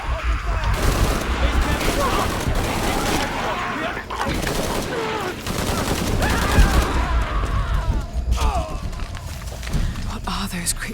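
Rapid bursts of automatic gunfire in a Shadow of the Tomb Raider firefight, crackling steadily and loud beneath shouted voices and action game sounds throughout.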